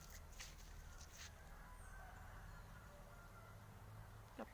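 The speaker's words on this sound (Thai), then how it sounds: "เสียงนกเสียงนูเสียงไก่โอ้เยอะแยะเลย" Chickens cluck faintly in the distance over a steady outdoor hum, with a few brief bird calls scattered through.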